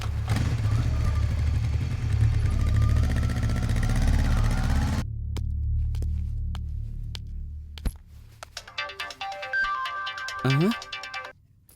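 A mobile phone ringtone plays as a short melodic jingle near the end, after a loud engine drone and clatter cut off abruptly, in a Telugu movie scene dubbed in Hindi.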